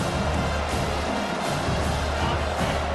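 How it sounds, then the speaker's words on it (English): A stadium football crowd roars steadily and loudly for its defense, a dense, continuous wash of cheering that fills the whole stretch without a break. "Listen to this crowd just shaking the girders of this place, trying to help their defense."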